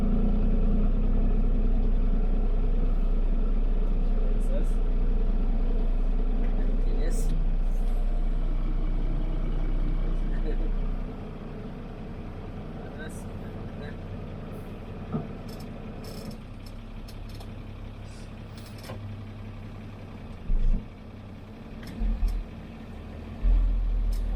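The engine of a 1988 Unimog truck runs with a deep, loud, steady rumble that drops to a quieter idle partway through, followed by a few short knocks and bumps near the end.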